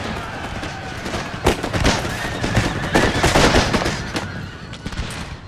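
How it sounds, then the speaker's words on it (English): Massed pistol volleys from Pistoliers cavalry in a Total War: 30 Years War battle as the Habsburgs, a dense crackle of overlapping shots with sharp reports standing out over a busy battlefield din. "Get the Pistoliers to fire as well."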